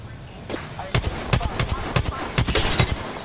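Rapid bursts of automatic gunfire in the Apex Legends video game, loud and close, with sharp repeated shots in quick succession that grow denser toward the end.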